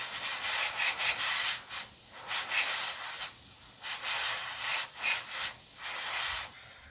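An airbrush sprays clear orange paint onto a model Gnome Monosoupape rotary engine for an R/C Blackburn Monoplane, giving a close, steady airy hiss in short bursts with brief pauses, with no talking.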